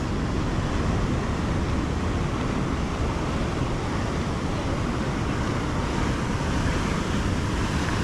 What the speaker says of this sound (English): The Imperial Beach does have very good waves.